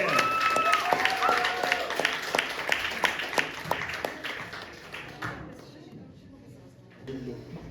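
An audience applauds to welcome a performer at a poetry round event in Kharkiv, steady clapping with a few sharp claps standing out, fading toward the end as a voice briefly speaks.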